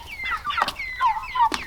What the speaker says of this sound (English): these are Cornish cross meat chickens